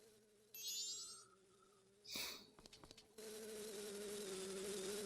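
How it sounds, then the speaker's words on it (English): A bee buzzing in a Majora's Mask game cutscene, a thin wavering insect drone over quiet game music, interrupted by a short whoosh and clatter before a louder, denser buzzing tone returns. "Do we have a cutscene just for this bee?"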